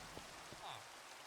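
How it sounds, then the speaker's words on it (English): Rain falling in Minecraft, a soft, steady hiss of drops on surfaces, faint and even, under a quiet voice. "The rain is perfect timing now."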